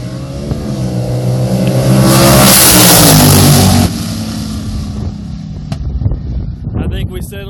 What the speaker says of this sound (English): Two fastest cars of the night.